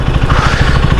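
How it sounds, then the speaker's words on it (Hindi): A 2025 KTM Duke 390 motorcycle engine idles with a deep, throbbing exhaust burble, loud and close, steady for about a second. "ये है इसकी एग्जॉस्ट साउंड।"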